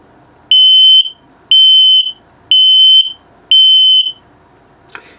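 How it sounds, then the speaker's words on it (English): A 2022 Flagstaff E Pro 20BHS camper's detector sounds its low battery alert: four loud, piercing electronic beeps, each lasting about half a second, evenly spaced one second apart, followed by a faint click. "Good, and then low battery alert."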